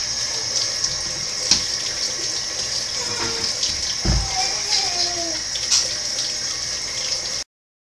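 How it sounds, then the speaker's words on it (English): Tap water runs steadily into a kitchen sink as hands are washed beneath it, a bright hissing stream with small splashes and shifts as the hands move, close by and alone until it cuts off. "wash your hands"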